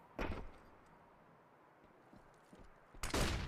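Gunfire in the video game CS:GO on the Nuke map, a sharp burst at the start and a louder burst at the end with quieter shuffling sounds between, no voices.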